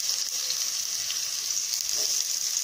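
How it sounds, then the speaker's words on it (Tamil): Onions sizzle steadily in hot oil for a capsicum and cauliflower gravy, a continuous bright frying hiss close up and fairly loud with no speech. "நம்ம முதல்ல வெங்காயத்தை போட்டு வதக்கி விடணுங்க"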